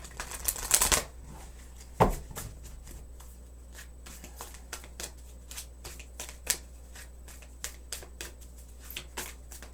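Moonology tarot card deck shuffled by hand in a quiet room, a burst of riffling near the start followed by soft, intermittent card taps and slides.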